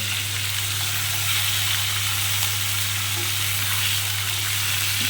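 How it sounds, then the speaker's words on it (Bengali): Hilsa fish pieces lightly frying in a pan over lowered heat, a continuous soft hiss of oil with a low steady hum beneath, even and unbroken throughout. "ইলিশ মাছটা শুধু ভাজছি"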